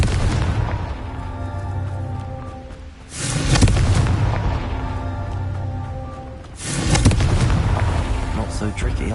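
Two heavy spell blasts from the Confringo fire spell in the Hogwarts Legacy video game, booming bursts about three seconds apart over a steady game soundtrack, with a voice speaking briefly.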